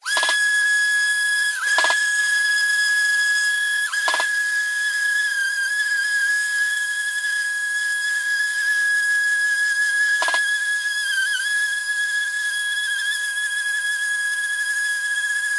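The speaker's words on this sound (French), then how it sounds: "tu viens prendre une ponceuse excentrique grain 80 et tu vas me faire tout le tour comme ceci" Random orbital sander fitted with 80-grit paper working across a wooden worktop, giving a steady, close, high-pitched whine that runs on without pause.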